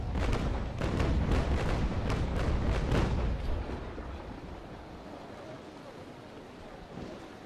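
A full broadside of cannon fire from sailing warships in the naval battle game Naval Action: a rapid string of heavy, booming shots rolls out loud and close, then fades into a lingering low rumble.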